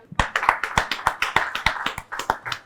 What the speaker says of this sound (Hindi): एक बार जोरदार तालियां विजय भोला जी के लिए।